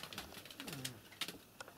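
Pigeons coo close by, one soft rolling low coo in the middle amid faint rustles and a few sharp clicks and taps.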